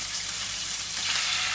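Ginger garlic paste sizzles steadily in a hot pan while cooking a restaurant-style chicken tikka balti, a continuous hiss at moderate level with no voices.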